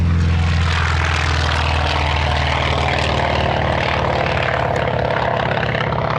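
The engine of a Grumman Wildcat propeller aircraft runs loud and steady at close range, a continuous droning roar with a deep throbbing pulse that holds throughout.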